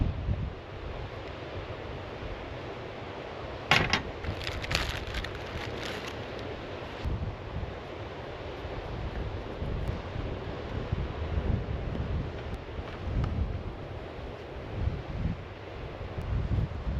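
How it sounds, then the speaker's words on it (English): Wind gusting across an island campsite, a steady broadband roar buffeting the microphone throughout, with a brief louder knock partway through and no speech. "It's a bit hard work with the wind."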